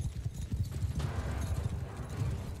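Cavalry horses gallop in the Mount & Blade 2: Bannerlord video game, a dense, continuous rumble of hoofbeats in a battle, fairly faint and steady throughout.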